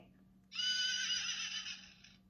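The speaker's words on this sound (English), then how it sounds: "And a horse." A horse neighs once, a loud whinny held for well over a second that wavers and fades, heard up close with no other sounds.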